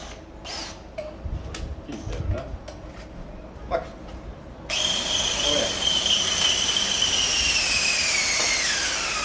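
A drain cleaning cable machine switches to its second speed, with scattered clicks and knocks giving way to a loud, steady high whirring whine that slowly drifts in pitch.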